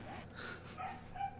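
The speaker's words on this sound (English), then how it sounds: "Goddamn dogs." Dogs bark and yip in the 7 Days to Die video game, a few short mid-level calls over a steady low game hum, with no talk over them.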